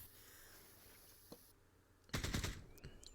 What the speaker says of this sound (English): that drew fire from a heavy machine gun